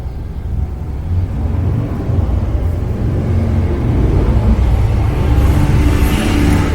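Road traffic on Caledonia Street at night, a loud low rumble of a passing car that swells and builds toward the end.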